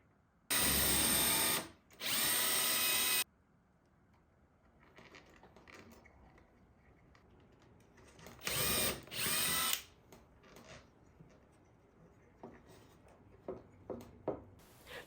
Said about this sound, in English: I'm now pre-drilling, then screwing 2 cup hooks on each upper part of the blades.